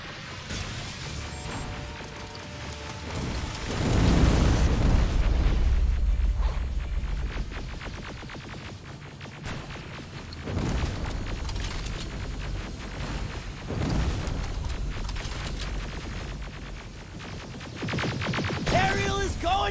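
Heavy explosions roar as an Aerial HK hunter-killer craft goes down in the Terminator Resistance shooter, several deep booming blasts swelling and fading over a constant battle din, loud and close.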